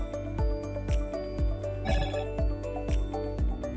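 A phone ringtone plays a repeating melodic chime in a steady rhythm, bright and close, sounding alone as the message carrying an OTP arrives.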